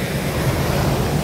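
Ocean waves wash at Lhoknga beach as a loud, steady roar of surf with wind noise and no distinct breaks.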